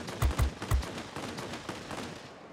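A 30mm cannon on a Messerschmitt Bf 109 G in World of Warplanes fires a few heavy, thudding rounds close together near the start, then lighter distant shots over a steady aircraft drone.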